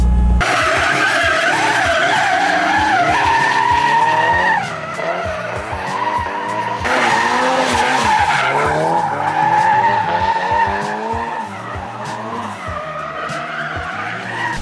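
A boosted Daihatsu Charmant drifting, with tires skidding and screeching continuously over the revving engine, loud and close throughout.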